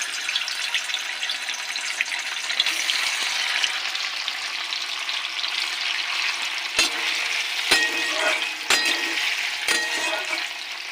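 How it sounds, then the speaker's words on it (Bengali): Steamed paneer frying in hot oil gives a steady, bright sizzle, fairly close, with a few sharp clicks and knocks near the end as the pieces are moved, and no one speaking. "তেল গরম হয়ে গেছে, পনির ভেজে নেব।"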